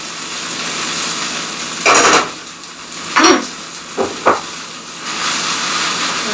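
Pesto is stirred into zucchini in a hot pan: a soft continuous sizzle broken by a few close scraping strokes of a utensil against the pan.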